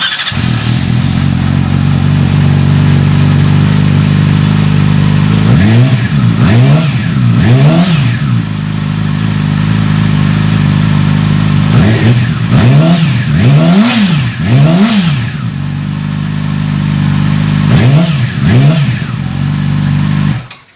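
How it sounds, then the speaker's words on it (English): A Yamaha R6 sport motorcycle fitted with a Graves slip-on exhaust idles loudly up close, then is revved in sharp repeated blips, rising and falling in clusters, with steady idle between. "we're going to start the bike and let you hear the difference"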